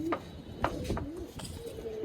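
Soft, low cooing of a female pigeon warbles along steadily, close by, with a few faint clicks and knocks mixed in.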